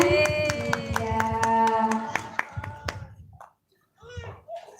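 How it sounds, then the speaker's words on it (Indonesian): Young preschool children at a quiz competition clap together in a quick, rhythmic burst of claps while a voice sings or chants over them; the clapping tapers off, then brief speech follows. "tepuk tangan."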